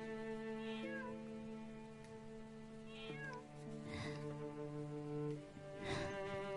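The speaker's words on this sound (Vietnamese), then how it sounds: "Chắc chắn là do con mèo đó." A cat meows several times in drawn-out, rising and falling cries over a sustained musical score in a dubbed period drama, fairly close and clear above the music.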